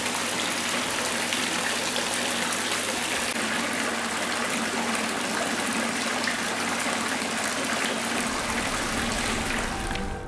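Water runs steadily from a Roman bath fountain at Vindolanda, a Roman fort and village on Hadrian's Wall: a continuous close splashing rush that holds an even level throughout, with no voices.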